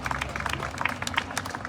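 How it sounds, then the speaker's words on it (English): A press-conference audience claps for Rosa, a brief, moderately loud patter of many hands at a steady density. "Can we get Rosa a big applause?"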